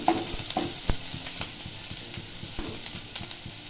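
Onions frying in oil in a pan give a steady close sizzle, with occasional soft scrapes and stirring taps over the continuous crackle.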